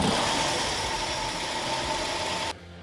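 Carbureted engine with a fast accelerator pump setting, running steadily loud and close with a broad roar, then cutting abruptly near the end with no clear rev or stumble.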